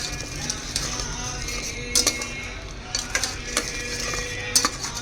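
Mutton masala powder sizzling and frying in a pan with paneer curry, a steady soft hiss broken by a few sharp spatula scrapes and clinks against the pan.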